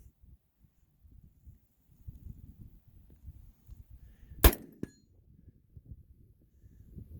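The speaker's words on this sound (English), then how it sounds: "So if you hear any gunfire, it's just my buddy over here" A single sharp rifle shot cracks out at an outdoor shooting range, with a 6.5 Grendel rifle firing at steel targets, followed moments later by a brief fainter strike over a low, quiet background rumble.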